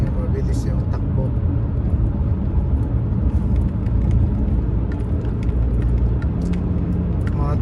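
A car moves fast through heavy traffic on a commute, giving a steady, loud road and engine rumble throughout while a person talks over it.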